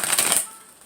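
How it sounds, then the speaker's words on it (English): Tarot cards are shuffled right up against the microphone in a brief, loud crisp riffle. It fades quickly to near quiet. "I noticed that I shouldn't shuffle so close to the microphone because it's really loud"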